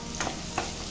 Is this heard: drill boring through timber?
no